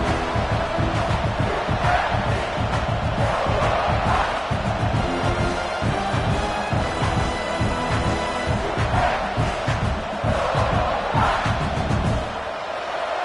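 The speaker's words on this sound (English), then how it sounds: "The roar of the crowd trying to fuel this defense to keep them pinned in their own end." A college football video game crowd roars continuously and loudly, a dense wall of cheering that swells in waves and eases slightly near the end.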